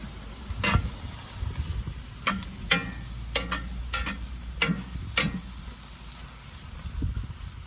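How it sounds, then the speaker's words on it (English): Apples cook in butter in a pan on a Big Green Egg with a soft, steady sizzle. Sharp scraping clicks of stirring and utensil taps on the pan come through at close range, with no talking. "See the apples starting to release a little bit of those juices and starting to mix with the butter."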